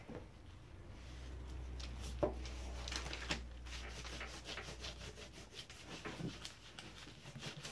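A finger rubs antique gel into saddle-tan leather, a soft, faint, continuous rubbing and scuffing with light irregular strokes, close up and quiet.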